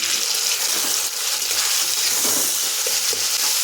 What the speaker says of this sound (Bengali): এখন এর মধ্যে দিচ্ছি 2টো বড় সাইজের টমেটো কুচি, দিয়ে দিচ্ছি হলুদ আর লবণ।